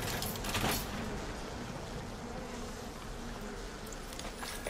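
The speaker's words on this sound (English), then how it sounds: "Stop running from the bees" Bees swarm in the Bioshock video game, a dense steady buzzing that fills the whole stretch at moderate level without pause.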